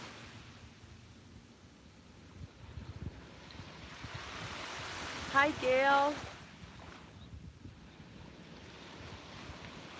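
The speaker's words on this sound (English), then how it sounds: "the waves are so relaxing this morning" Ocean surf washes steadily onto a beach at sunrise, a soft continuous wash with wind noise, while a person speaks briefly over it and a bird calls once.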